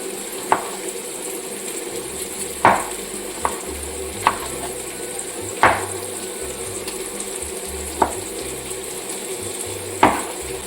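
Onions frying in a pan for a spinach masala curry, a steady soft sizzle with periodic sharp scraping stirs of a utensil against the pan, with no one talking.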